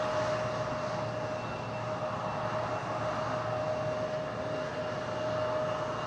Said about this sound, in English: Nick Woodward, ATI 767, that's a freighter, 38 years old.